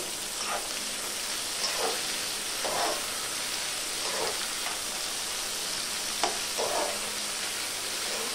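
Dried fish (sukat) and onions fry in a pan with a steady, close sizzle. A spatula scrapes and stirs through it at regular intervals.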